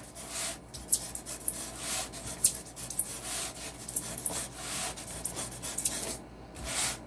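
Sandpaper rubbing over styrofoam while shaping a giant decorative donut: close, dry rasping strokes in an uneven back-and-forth rhythm, with brief pauses between passes and no talking.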